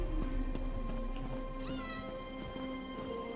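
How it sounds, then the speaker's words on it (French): A cat meows in The Elder Scrolls Online Summerset, a single short rising call heard over steady game ambience and background music. "Ah, il y a un chat."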